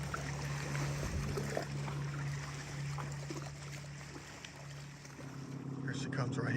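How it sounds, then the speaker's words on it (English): A motorboat pushes past with its stern low in the water, its engine a steady low hum over rushing water and wind, fairly faint and distant, with a voice at times. "Whenever you see that kind of boat and the back side of it is practically underwater and they're pushing forward like this and it's got that sound to the motor"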